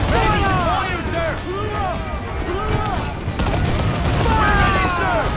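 A ship's cannons fire volley after volley in a naval battle in Assassin's Creed IV Black Flag, with continuous heavy booms and rumble, while crew voices shout over the barrage.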